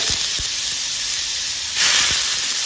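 Bottle gourd sizzles in hot oil with asafoetida over a high flame: a steady, loud frying hiss that surges even louder partway through.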